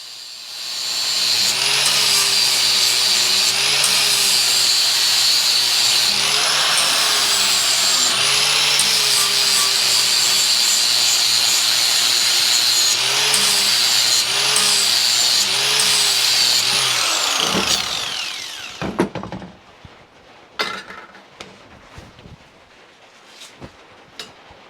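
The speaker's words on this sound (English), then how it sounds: "it's much easier to use this flat disc, grind down the cutting edge" A flat grinding disc grinds down the cutting edge of a lawnmower blade, a loud continuous whine that holds steady for most of the clip before cutting out, leaving scattered clanks and handling noise.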